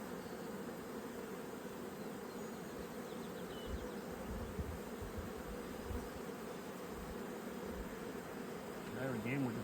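Honey bees buzzing around an open hive during an inspection, a dense steady drone close to the microphone, continuous and fairly quiet, with no clear talk.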